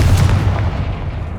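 Confringo spell explosion in Hogwarts Legacy, a loud, dense, rumbling blast with heavy low-end that holds and slowly fades over a second or so.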